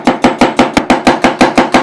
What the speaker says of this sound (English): we're going to start off by cutting up an onion